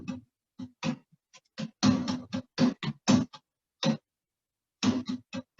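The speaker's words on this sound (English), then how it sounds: "maybe we have like a little tom thing" A programmed drum groove built on toms from the Superior Drummer software plays in short, punchy hits separated by gaps of silence, with a loose, steady rhythm and no voices.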